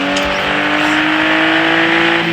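A video game car engine drones steadily and loudly throughout, with a sustained revving hum and no speech.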